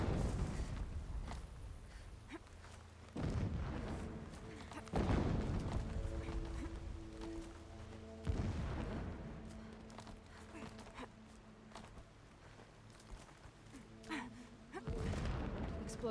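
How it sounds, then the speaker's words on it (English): Distant explosions in the video game Horizon Zero Dawn on Ultra Hard difficulty, several muffled booms spaced a few seconds apart over a low ambient bed, with a voice speaking at times. "Explosions in the distance."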